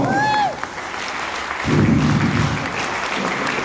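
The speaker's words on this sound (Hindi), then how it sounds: "जबरदस्त ताली से स्वागत कीजिए, क्योंकि ये वो लोग हैं जिन्होंने आप लोगों को उम्मीद करने का जिम्मा लिया है" Seminar audience in a hotel hall applauds to welcome the founders, steady clapping from a crowd running throughout with a brief tonal sound at the start and a louder swell partway through.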